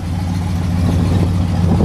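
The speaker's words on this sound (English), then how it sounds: "We'll go ahead and fire it up for you." A 1967 Pontiac GTO with dual exhaust and chrome tips runs close by, a loud, steady, deep rumble that builds slightly toward the end, with no voices.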